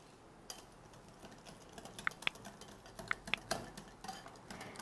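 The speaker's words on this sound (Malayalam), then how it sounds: "അപ്പോൾ ഞാൻ എന്തായാലും ഒരു ഹാൻഡ് വിസ്ക് വെച്ചിട്ടാണ് മിക്സ് ചെയ്തെടുക്കുന്നത്." A hand whisk stirs banana batter in a bowl, giving faint, irregular ticks and light clinks of metal on the bowl's side, quiet and close.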